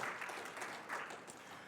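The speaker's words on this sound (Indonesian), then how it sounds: "Tepuk tangan bagi Tuhan Yesus Kristus" Church congregation clapping in praise of Jesus Christ during a Sunday service, a steady dense patter of many hands filling the room for under two seconds with no voices over it.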